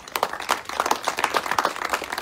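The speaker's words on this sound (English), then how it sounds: "I want us to give her a round of applause." An audience at a community meeting of the Yoruba community in South Africa claps steadily with scattered, fairly close hand claps. No one speaks over it.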